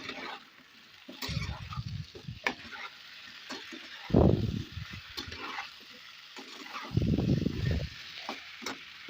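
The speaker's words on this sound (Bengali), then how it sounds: "আর কেটে রাখা আলুগুলোও দিয়ে দিলাম একসাথে, দিয়ে ভালোভাবে নেড়ে চেড়ে মশলার সাথে মিশিয়ে নেব" Chicken and cut potatoes frying with spices in a pan give a low background sizzle, broken by a few louder scraping bursts as the pieces are stirred and turned.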